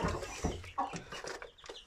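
Iğdır and Istanbul breed hens and chicks in a new coop cluck in short soft bursts while eating feed, close and fairly quiet, with a few pecking taps mixed in.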